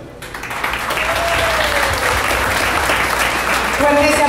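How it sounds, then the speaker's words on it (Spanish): Loud, sustained audience applause at a quinceañera celebration swells within the first second and holds steady, with cheering voices mixed in toward the end. "Fuerte ese aplauso"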